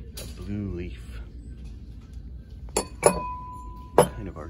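A blue leaf-shaped milk glass piece clinks sharply several times while being handled, with a few bright taps toward the end over faint background noise; a voice is heard briefly near the start.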